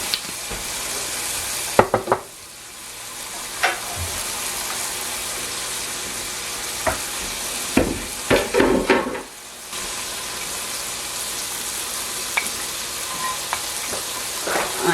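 Vegetable fried rice sizzles steadily in hot oil while being stir-fried, with sharp clanks and scrapes of a utensil against the pan cutting through the constant frying hiss.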